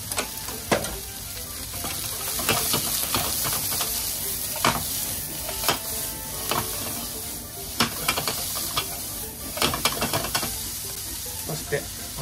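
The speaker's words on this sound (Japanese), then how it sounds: "まずは玉ねぎを炒めます。" Onions frying in olive oil in a pan, a steady bright sizzle with frequent scraping and stirring clatters throughout, close and continuous, no voices over it.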